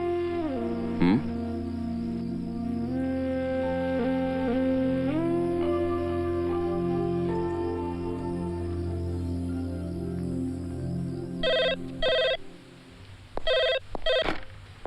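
An office telephone rings with sustained electronic tones, then short repeated ring bursts toward the end, loud and close with no talk over it.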